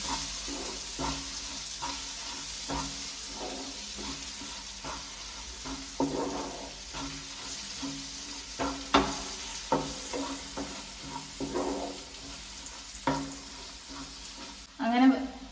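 Chilli powder and turmeric being sautéed in a pan while cooking ridge gourd, with a soft ongoing sizzle and occasional scraping stirs, quiet and close, alongside some talk.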